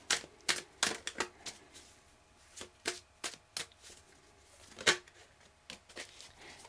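Tarot cards being shuffled and drawn at close range: a loose series of crisp card snaps and riffles, some clustered and some spaced out, with a sharper flick near the end and no speech.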